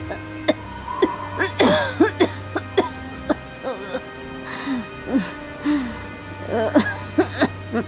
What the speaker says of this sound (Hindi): वो बुरी तरह खांस रही थी, मानो उनकी सांस रुकने वाली हो।